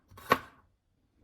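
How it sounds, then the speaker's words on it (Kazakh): A single knife chop lands on a board as vegetables for a lecho salad are finely cut, one brief sharp tap in a quiet kitchen. "осылай ұсақ етіп турап шығамыз"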